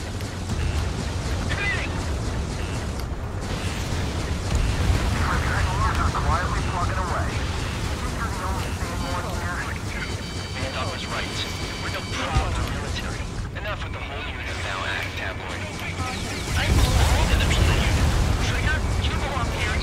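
An aircraft crashes and explodes in Ace Combat 7: Skies Unknown, deep booming blasts and roaring engine and fire noise rolling over twenty seconds, with a voice talking over much of it.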